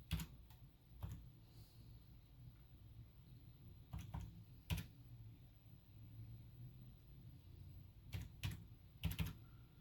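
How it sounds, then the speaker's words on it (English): Keys tapped on a computer keyboard while entering a wireless password during Raspberry Pi setup, a few soft clustered clicks spaced apart over a low steady background rumble, no talking. "it's going to ask you to enter your paraphrase, which is your password. So we're going to type that in as well."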